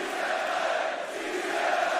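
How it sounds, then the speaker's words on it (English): A large wrestling arena crowd in Barcelona at a WWE SmackDown event produces a steady, dense roar of cheering and chanting, sustained at an even level with no pauses. "the reaction from this crowd here in Barcelona"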